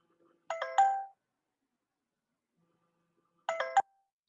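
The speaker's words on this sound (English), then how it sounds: "This is how the notifications are triggered on a user's smartphone." A smartphone notification alert from a safety app for distracted pedestrians, a short two-note chime heard twice about three seconds apart, clean and fairly quiet against silence.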